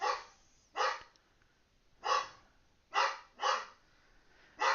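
A dog named Shyla barks indoors, five or six sharp, loud barks spaced irregularly with quiet gaps between them, no talking.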